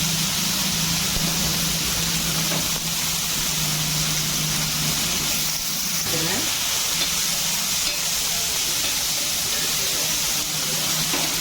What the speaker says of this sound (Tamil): அதுலேயும் வறுபட்டுட்டு தாளிப்பு சாமான் வெங்காயம் போட்டுருவேன்